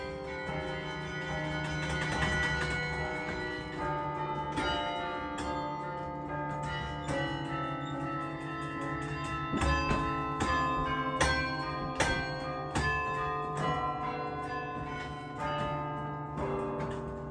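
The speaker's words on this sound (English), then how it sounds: "enter the elegant Carillon cabin to watch a performance by City Carillonneur" Carillon bells ring out from the Bruges bell tower as a carillonneur plays a live tune, struck bell tones following one another in a melodic rhythm over a rich, sustained ringing that hangs in the air.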